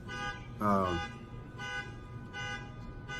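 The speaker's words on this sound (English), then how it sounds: "There's a car alarm going off, so hold on a second." A car alarm blares in repeated harmonic tone bursts, one louder sweeping wail followed by evenly spaced pulses, sounding from nearby outdoors over a steady background hum.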